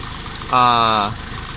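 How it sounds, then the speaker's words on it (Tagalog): A car engine being decarbonized with water revs briefly for about half a second, a rising harmonic drone over low background noise, then drops back. "i-rev natin yung makina para hindi siya mamatay ng tuluyan"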